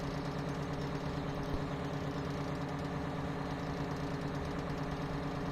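Big Bud tractor engine in Farming Simulator 17 running loudly and steadily, a dense, continuous heavy engine drone with a low rumble that stays constant and close throughout, without pauses or talk.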